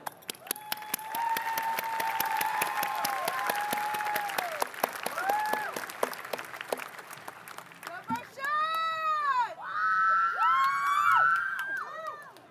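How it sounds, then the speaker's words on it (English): A high school graduation crowd breaks into loud applause. Cheers, whoops and shouted voices ride over the clapping, and the noise swells and fades in waves through a large, reverberant hall. "let's give a final round of applause to everyone we just thought of"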